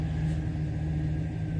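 A 2008 GM Sierra/Silverado pickup engine idles steadily after starting, a low, even rumble with a constant hum and no talking.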